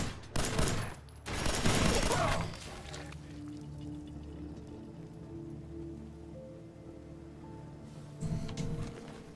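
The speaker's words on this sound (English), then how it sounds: "they gave these guns a choo-choo sound" Guns in a wasteland video game fire in rapid bursts with an odd choo-choo quality, two loud volleys up front and another near the end, with a low droning hum filling the quieter stretch between them.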